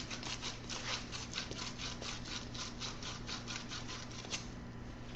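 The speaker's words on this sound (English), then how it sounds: "And let's clean this. It's basically sandpaper." Rapid rhythmic scraping of sandpaper cleaning copper tubing before soldering, a steady back-and-forth rasp repeated many times, close and fairly quiet.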